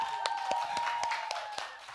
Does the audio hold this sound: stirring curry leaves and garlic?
no